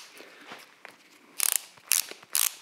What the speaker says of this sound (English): they have this cool little ratcheting system